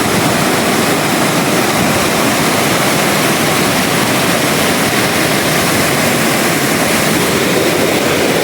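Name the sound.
river water rushing at high speed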